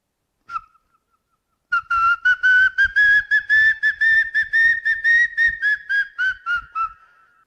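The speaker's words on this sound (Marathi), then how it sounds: "आता आपल्याला पक्ष्याची शिट्टी ऐकायची आहे, पपिहाची शिट्टी ऐकायची आहे." After one short whistled note, a common hawk-cuckoo gives a long run of rapid, evenly repeated shrill whistles, clear and fairly loud.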